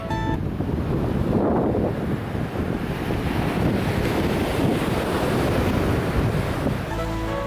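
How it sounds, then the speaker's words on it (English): Sea waves wash onto the shore at Varna, Bulgaria: a loud, continuous broadband roar that surges and recedes, with wind buffeting the microphone throughout. "this shell is so powerful that just holding it this close, you can hear the sea"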